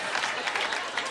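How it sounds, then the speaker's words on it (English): A comedy club audience claps in a short, dense burst of applause, with a brief crowd murmur beneath it. "Don't applaud that."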